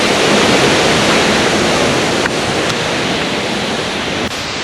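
Powerful Yung Thong waterfall in Na Yung–Nam Som National Park, Udon Thani, roaring up close as a loud, steady torrent of crashing water, continuous and unbroken with no voices.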